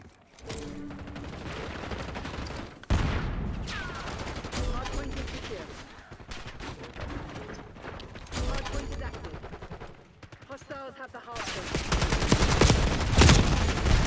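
Gunfire in a Black Ops 6 Hardpoint match comes in heavy rapid bursts of automatic fire with sharp individual shots and some mechanical clatter, loud and close throughout, with player voices mixed in.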